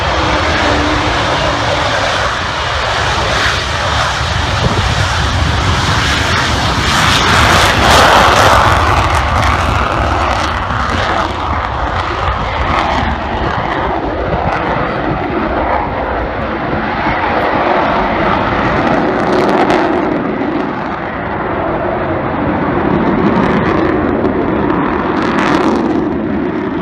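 The Avro Vulcan XH558 bomber makes a continuous, heavy jet roar on its last flight at the RIAT 2015 airshow, loud and broadband with a slow swell and fade as it passes, over crowd and wind noise.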